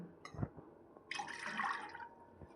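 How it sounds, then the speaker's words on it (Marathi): Water pours into a cooking pot for a homemade summer drink, a short steady stream after a few clinks of the vessel, close and moderately quiet. "आता एक भांड्यामध्ये आपल्याला पाणी घ्यायचं आहे"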